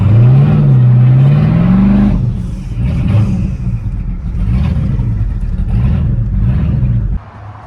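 A 2019 Chevrolet Camaro ZL1 with twin turbos and a TH400 transmission revs loudly and rises in pitch, then settles into a rough, burbling idle and low-speed drive close by.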